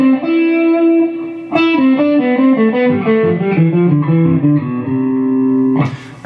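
Electric guitar with effects playing a rising run of paired notes in thirds up a scale, steady and sustained, then a brief noisy burst near the end; no talking.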